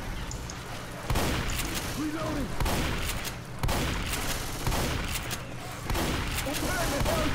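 Repeated bursts of gunfire in the zombie shooter Left 4 Dead 2, sharp volleys recurring every second or so at steady loudness, with a voice talking between the shots.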